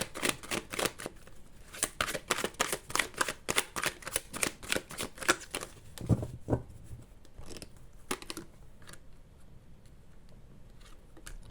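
Tarot cards shuffled by hand in quick, crisp riffling bursts for several seconds, then a few slower, separate flicks and slaps as single cards are drawn and laid down, close and clear with no talking.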